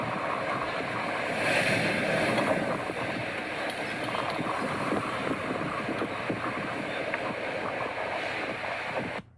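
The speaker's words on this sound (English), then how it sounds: "As the tide comes in, the waves send water into a crack below, which then comes shooting up, resembling a whale spout." Waves surge into a coastal crack at a Galapagos blowhole, making a continuous roaring, rushing wash of water with wind noise on the microphone, loud and steady throughout before cutting off.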